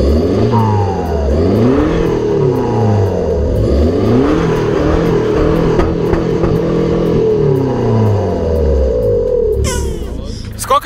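A Volvo diesel car with a straight-pipe exhaust running from engine to tail revs hard up close, repeated rising and falling engine sweeps, loud and sustained, while voices talk over it.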